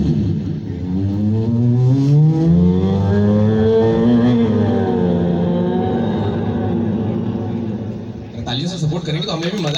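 A comedian's voice imitates a sports car passing by with a long, loud, rising and falling engine-like vroom that swells and fades, ending in a brief breathy hiss.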